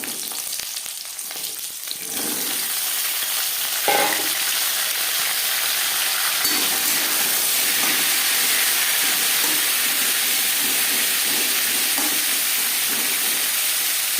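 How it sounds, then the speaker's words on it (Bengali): Pointed gourd (potol) dropped into hot refined oil, a loud, dense hissing sizzle that jumps up after a brief stir-like clatter and then holds steady, close up and without speech. "2 চামচ রিফাইন্ড অয়েল গরম করে নেওয়ার পর দিয়ে দেবো পটল।"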